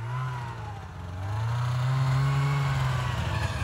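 A snowmobile engine idles, then revs and holds at a higher pitch, running up after fresh gas was added. The steady, close motor drone climbs and stays loud, with no talking.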